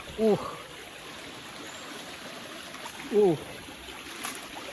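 A clear forest river stream flows in a steady wash of hiss, with two brief high bird-like calls rising above it.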